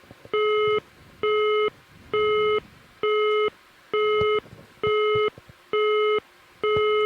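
Telephone busy signal after a lost call: eight evenly spaced, loud tone bursts of about half a second, separated by equal gaps, with faint background noise underneath and no talk.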